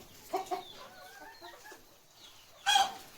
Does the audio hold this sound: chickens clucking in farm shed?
yes